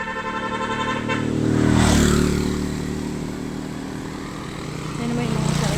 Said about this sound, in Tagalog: puro mga single motor lang pumapasok at saka lumalabas dito